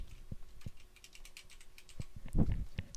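A handful of keystrokes on a computer keyboard as a folder name is typed, with sparse close clicks and a slightly heavier cluster near the end, and no voice.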